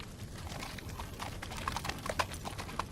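Steady clip-clop of horse hooves on a hard surface, a brisk even rhythm with a few sharper knocks, moderately near with no talking.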